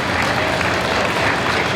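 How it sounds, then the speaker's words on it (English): Applause and crowd noise at a costume contest during a convention, a loud, dense roar of clapping and cheering that fills the room without letup. "Big round of applause for Little Mac."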